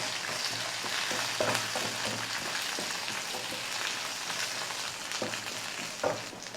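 Green chilies, curry leaves and whole garlic cloves sautéing in oil, a dense continuous sizzle with soft stirring clicks throughout, close and fairly loud with no talking.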